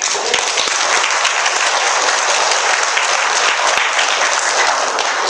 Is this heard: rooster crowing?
no